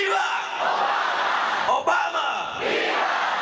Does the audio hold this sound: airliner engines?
no